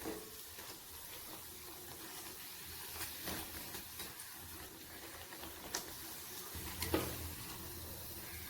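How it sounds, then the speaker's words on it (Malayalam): Banana fritters (pazhampori) fry in hot oil two pieces at a time, giving a steady, fairly quiet sizzle with a few brief clinks and stirring knocks, and no talking. "ഇനി അടുത്ത പീസ് ഇട്ട് പൊരിച്ചെടുക്കാം"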